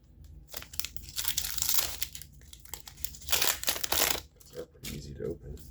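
A Magic: The Gathering Aetherdrift booster pack wrapper is torn open and crinkled close up in loud, rustling bursts of foil crumpling, with a person talking briefly between the crinkles.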